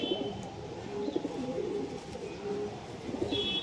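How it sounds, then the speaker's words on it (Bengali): Soft, low pigeon cooing repeats throughout, with faint bird chirps above and a steady background hum. "পর দেখুন পায়রা"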